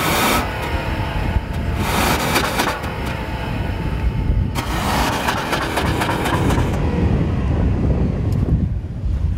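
A 2014 Acura RLX engine revs hard against its electronic rev limiter, producing a loud, sustained roar with rough surging pulses as the computer holds the revs down.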